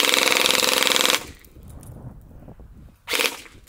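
Rapid automatic gunfire from a Roblox video game gun, a loud dense burst of about a second, a short quiet gap, then a second brief burst.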